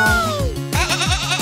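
Cartoon sheep bleating, a close, loud series of wavering bleats repeated in quick succession over a second and a half, with no talking.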